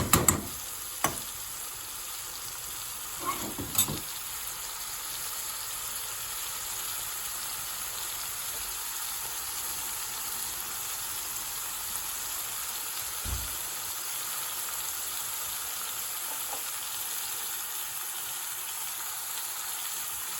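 Spicy garlic prawn bhuna curry with chili flakes frying in a pan as it is stirred, a steady soft sizzle throughout with a few knocks of the spoon near the start.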